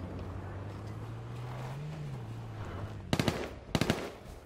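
Two short bursts of rapid gunfire in a first-person shooter game, sharp and fairly close, cutting over a steady low engine-like drone that runs underneath the whole time.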